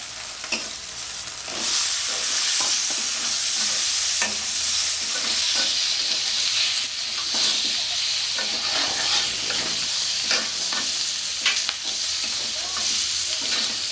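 Potatoes fry with turmeric in a hot pan, giving a loud, continuous sizzle and hiss close by, with repeated scraping stirs throughout and no voices.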